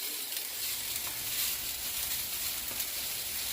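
Rice and onions sizzling in a hot pan over medium-high heat for Mexican white rice, a dense continuous frying hiss close by and fairly steady, with no talking.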